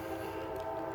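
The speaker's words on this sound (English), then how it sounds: "Ooh, that's a train. He's gonna come through and make a hell of a noise." A train passes near a vegetable garden planted with arugula, giving a steady, dense rumble with a horn-like tonal drone that holds level and fairly loud throughout the short stretch.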